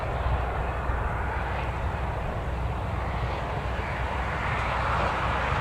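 A small Embraer airliner taxis toward runway 25 at Newcastle Airport, its jet engines producing a steady broad rumbling whine at moderate distance, continuous and even with no voices.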